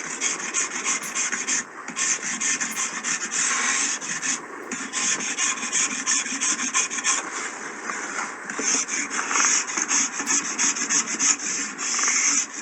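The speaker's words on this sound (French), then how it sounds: "J'utilise aussi, on appelle ça un surforme ou un rabot de finition." A surform rasp shaving plaster gives a continuous, close, loud rasping scrape. Strokes overlap into a dense gritty hiss with slight rhythmic swells and a few brief dips.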